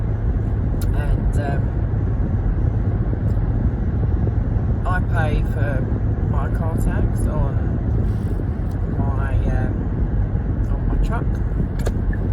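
The engine of a car the person is driving on a borrowed trip drones steadily throughout, with road rumble beneath someone talking.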